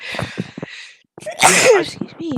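A single sharp sneeze bursts out near the mic right after a short spoken phrase, with more talk following.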